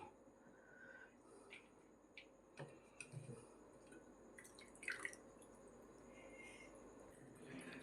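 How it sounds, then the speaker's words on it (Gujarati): Water draining and dripping from soaked poha in a perforated strainer while making batata poha, faint scattered drips and small trickles close by over a quiet background, with no speech. "જો આ રીતે બધું પાણી બહાર કાઢી લેવાનું."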